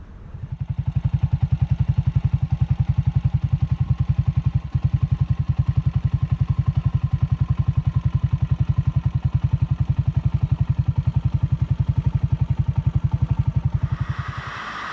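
Cheap Chinese motorcycle engine thrumming in a steady rapid pulse while cruising on a road shoulder in Paraguay, loud and close, holding constant speed before easing off at the end.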